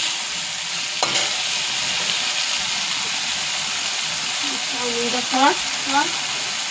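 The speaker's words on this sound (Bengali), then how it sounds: "তারপরে নাড়ানো হচ্ছে।" Food frying and sizzling in a pan in a home kitchen as it is stirred, a steady hiss with scraping strokes and a few louder bursts toward the end.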